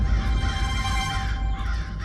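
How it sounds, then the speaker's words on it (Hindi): Crows caw loudly and close, several harsh calls overlapping into a continuous raucous chorus that dips briefly near the end, with no talking. "ये कौवे मृत्यु का रूप लेकर आए हैं"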